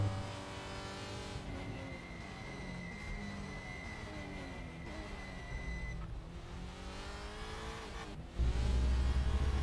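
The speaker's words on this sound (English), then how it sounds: "Really forcing his way around those corners. Hear the tires squealing from beneath him." A touring race car at Shanghai International Circuit squeals its tires through corners while the engine revs and shifts, a continuous tonal whine and roar that jumps louder near the end.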